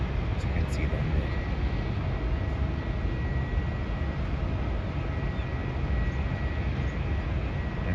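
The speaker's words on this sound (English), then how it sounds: "the next plane to take off is Rex Airlines Boeing 737 that will be going to the Gold Coast" A Rex Airlines Boeing 737 takes off from Melbourne Airport, a steady broad jet roar heard from a distance throughout while a person talks over it.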